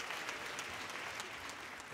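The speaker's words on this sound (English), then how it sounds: "Round of applause." A live comedy-show audience bursts into applause, a dense, even patter of many hands clapping that stays steady for the brief moment with no talking over it.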